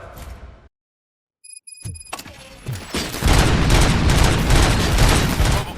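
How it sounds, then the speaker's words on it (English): Gunfire in RoboCop: Rogue City: after a brief silence and a few faint electronic tones, a loud, dense burst of rapid shots and booms erupts and continues steadily, close and overwhelming. "Gunshots? What's going on?"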